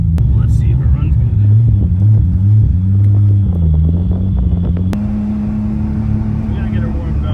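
A rat-rod Toyota Supra engine that has sat for a long time runs steadily up close, its low rumble rising and falling through a few revs before settling into a higher, even drone, with people talking over it.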